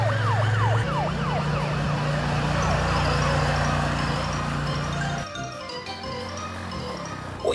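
A police car siren wails in quick rising and falling sweeps over a steady road-vehicle hum, dropping away partway through while the engine noise carries on.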